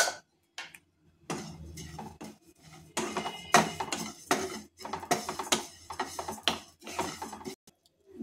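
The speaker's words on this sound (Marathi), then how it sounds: "जिरं भाजून घेऊया आपण आणि तीळ पण भाजून घेऊया" Cumin and sesame seeds dry roasting in a pan, with scattered light ticks and scraping clatter as a utensil stirs them. The sounds are close and fairly quiet, coming in uneven bursts with short pauses between.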